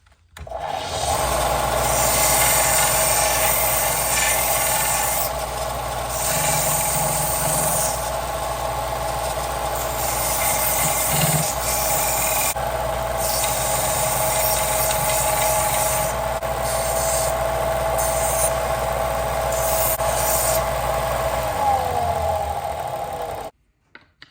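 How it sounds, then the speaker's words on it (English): Steady rasping and rubbing of hand tools shaping a small hickory wedge for a framing hammer restoration, continuous and close with faint mechanical clicks, no talking. "I'm just going to slice some of this off and shape a little wedge to drive down in here"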